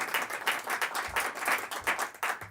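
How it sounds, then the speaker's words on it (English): Applause from a modest audience at a school district candidate forum, a burst of scattered clapping that swells and settles over a couple of seconds, fairly close and moderately loud. "Let's give the candidates a big round of applause."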